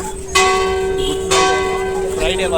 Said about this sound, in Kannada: ಇವಾಗ ಚರ್ಚ್ದು ಬೆಲ್ ಹೊಡಿತಿದೆ, ಅಲ್ಲಿ ನೋಡಿ ದಾರ ಎಳಿತಿದ್ದಾರಲ್ಲ